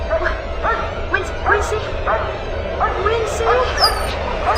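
Dogs in the game Barrow Hill bark and whimper in a string of short yips and whines, several close together, over a steady low rumble of ambient drone with some speech-like sounds mixed in.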